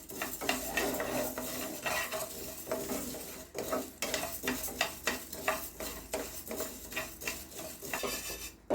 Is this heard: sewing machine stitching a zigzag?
no